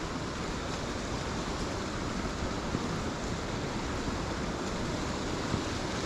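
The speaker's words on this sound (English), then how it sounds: "Some whitewater rapids just down here." Whitewater rapids on a small stream near a swamp, a steady broadband rush of churning water that stays constant and fairly loud throughout, with no voices.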